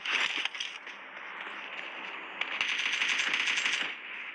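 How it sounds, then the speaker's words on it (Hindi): Sustained automatic gunfire from a bot in the mobile battle game PUBG Mobile rattles in a fast, dense stream, briefly dipping and then resuming, fairly close with no talking. "तभी एक बॉट मेरे ऊपर फायर करता है।"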